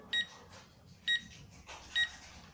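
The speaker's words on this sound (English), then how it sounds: "press and hold the button until you hear three beeps." Exactly three short, clear electronic beeps from an RF strobe siren alarm being paired with a sensor, evenly spaced about a second apart, fairly faint and alone over a quiet room.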